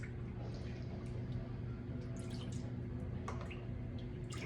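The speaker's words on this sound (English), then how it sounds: "I'm going to use about a half a cup of China Lily soy sauce" China Lily soy sauce poured for beef jerky seasoning gives faint, quiet trickling and dripping over a low steady background hum, close by with no talk.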